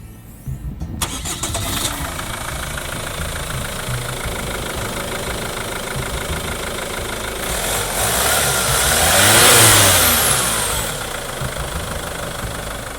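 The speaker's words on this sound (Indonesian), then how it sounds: "kita dengerin dulu suara mesinnya" A 2000 cc turbo diesel engine in a Chevrolet Captiva running steadily at idle, close and continuous, with a rising swell of revs partway through before settling back down.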